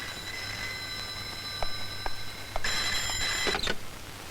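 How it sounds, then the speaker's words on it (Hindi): A telephone rings in a police station scene from a Hindi film, short bright repeated rings over a low steady hum, getting louder and denser near the end. "अमर साहब, आपका फोन"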